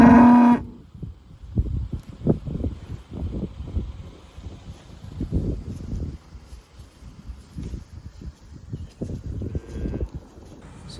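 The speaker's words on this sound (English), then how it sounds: "cows and calves back outside, back with the bull" Cows and calves mooing outdoors in a pasture with their bull just after winter, with repeated lowing calls at varying distances and some rustling between them, and no talk.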